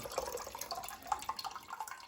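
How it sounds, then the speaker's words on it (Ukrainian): Water being poured out of a jar while pickling tomatoes with carrot tops, heard as faint, soft splashing and dripping trickles that run continuously and alone. "Отак, от гарненько всю воду виливаємо."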